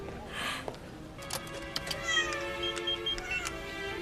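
A cat meows several times indoors, drawn-out whining cries in a rising and falling run, moderately close over a quiet room.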